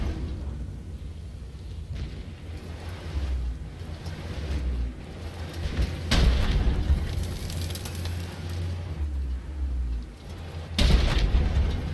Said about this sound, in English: I'm not too concerned right now with artillery shooting at me